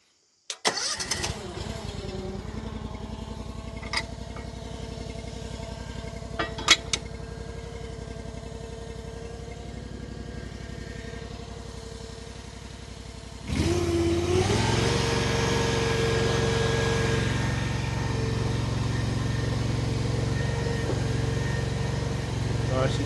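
A hydraulic machine idles with a low engine hum and faint clicks while its bucket moves up and down smoothly, then the engine load rises midway into a louder, steady drone that holds to the end.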